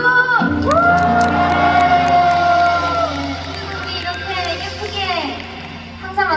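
A concert crowd at an encore cheers and screams loudly, with high whoops and sustained shouting that stays dense and close throughout before easing slightly near the end.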